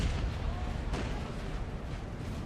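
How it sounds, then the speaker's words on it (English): Napoleonic artillery fires across a swampy battlefield in Napoleon Total War, a dull booming report amid a steady, noisy wash of distant battle sound. "The artillery is firing away"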